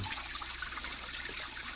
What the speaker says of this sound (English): I'm going to sit here by the fountain. Very ingenious, the fountain.